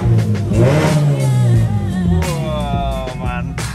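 A Mazda 2 fitted with a Sokudo equal-length full exhaust system revs up and down, loud throaty rises and falls close by over a few seconds.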